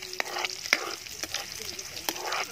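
Onions sautéing in a pan for sardine bihon guisado, a soft steady sizzle with a few sharp clicks and scrapes of stirring, close and moderately quiet, with no talking.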